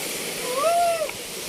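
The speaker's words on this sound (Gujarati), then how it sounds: "જે ખુણિયા મહાદેવનું જે ધોધ પડી રહ્યો છે તેનું જે આ પાણી છે" Khuniya Mahadev waterfall and its streams in the Pavagadh forest give a steady, dense rushing hiss throughout, with a brief high whistling call rising over it midway.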